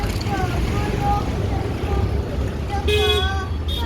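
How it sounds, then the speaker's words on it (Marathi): Busy road noise with engines rumbling and passing vehicles, plus short horn toots and background chatter throughout. "रस्त्याने खूप गर्दी होती हे बघा ट्रॅफिक"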